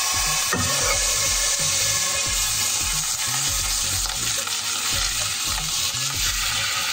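Minced garlic sizzles steadily in a hot frying pan while ricecake soup is being made, a continuous close crackle and hiss with a few soft stirring knocks underneath and no talking.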